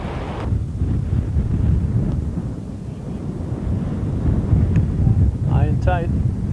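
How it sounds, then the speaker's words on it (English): A southeast wind blows across a high school baseball field, making a steady low buffeting rumble on the microphone throughout. Brief tonal voice-like sounds come through faintly near the end. "Kind of a southeast wind blowing in from left field and left center field."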